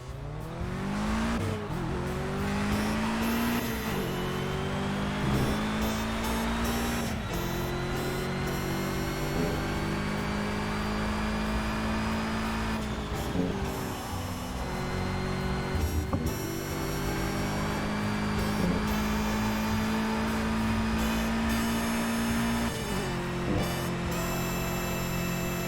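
A race car in a video game accelerates repeatedly, its engine pitch climbing through the gears and dropping at each shift, a loud continuous whine with brief dips.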